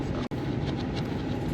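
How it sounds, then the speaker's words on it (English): An exhaust fan running in a small workshop during airbrush painting, a steady low droning whir close by, broken only by a brief dropout near the start. "the noise you're hearing in the background is the exhaust fan"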